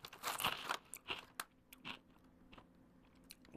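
Crunchy Asiago and cheddar cheese crisps being bitten and chewed up close, a burst of sharp crackling crunches followed by softer, sparser chewing that fades into quiet.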